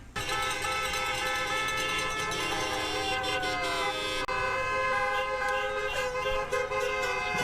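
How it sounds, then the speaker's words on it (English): Vehicle horns blare almost continuously across a crowded Freedom Convoy parking lot in Ottawa, many long overlapping honks, loud and close, layered over a rumbling crowd and engine din. "Lots of vehicles, lots of honking, people preparing to leave."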